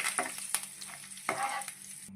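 Curry leaves hit hot oil and sizzle while being stirred for special cashew chicken pakodi: a close, crackling fry with sharp spatula scrapes and clicks on the pan, and no voices.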